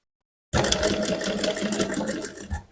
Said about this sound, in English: So just flip it and sew the other edge, right?